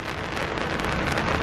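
Rain falls steadily on a boat during wind and weather near the Wolfe Island ferry, a dense, even hiss of drops with gusty wind noise buffeting the microphone.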